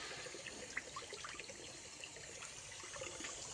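A buffalo drinking water on a farm, heard as a steady, close trickle and splash of flowing water with small gurgles, no voices.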